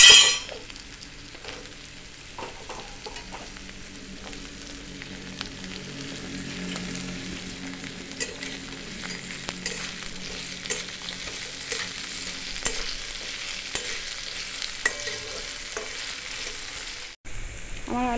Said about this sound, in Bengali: আমার আলুগুলো হালকা হালকা ভাজা হয়ে এসেছে।